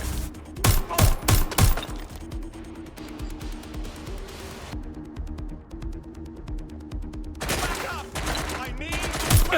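A shootout in the video game Watch Dogs: Legion produces several loud, sharp gunfire bursts over a droning background, with a dense rapid burst near the end.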